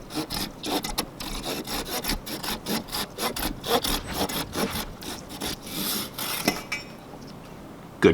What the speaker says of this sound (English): now we can cut the joint